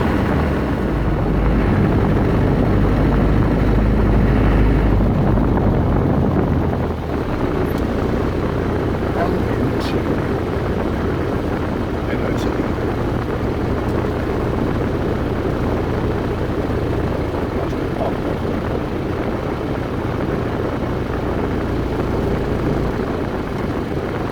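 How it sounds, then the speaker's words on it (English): A loud 1990 Range Rover two-door engine and exhaust roar from inside the cab, with gearbox whine and rumbling, steady throughout with a slight drop after a few seconds. "there is nothing protecting my ears from the gearbox and the exhaust yet"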